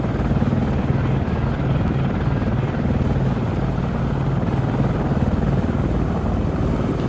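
A Chinook helicopter coming in to land in the video game Arma 3, its steady loud rotor chop and engine roar filling the whole clip without pause.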